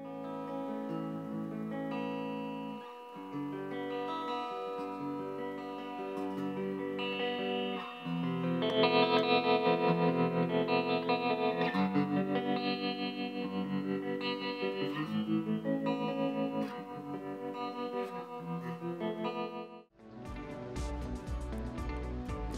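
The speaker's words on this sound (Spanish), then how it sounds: "El BT1 te ofrece un formato compacto con varios controles de ajuste para lograr un sonido a tu gusto." An electric guitar played through a Marshall BT1 Vibratrem pedal strums sustained chords with a pulsing tremolo shimmer, loud and continuous with no voices, ending on a sharp change to a brighter, buzzier tone.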